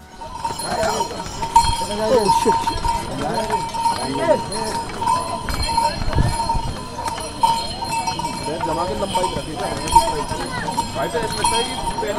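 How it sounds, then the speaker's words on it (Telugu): Horses carrying riders on the steep Kedarnath mountain trail, hooves clip-clopping in an uneven rhythm with bells jingling, under steady nearby talk and outdoor crowd noise. "గుర్రాల మీద వెళ్ళేటప్పుడు మెయిన్ ప్రాబ్లం ఏంటంటే అవి గెంతుతూ ఉంటాయి"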